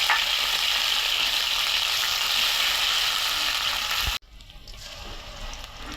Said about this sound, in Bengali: তেল দিয়ে দিলাম, পেঁয়াজ দিয়ে দিলাম বন্ধুরা